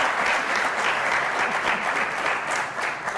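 Audience applause in a studio setting, a dense, even patter of many hands clapping at moderate volume throughout, with no voices over it.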